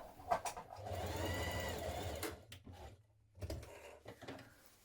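Sewing machine stitching shirt fabric, running in one steady whirring burst of about a second and a half, followed by a pause and a brief second stitch nearby.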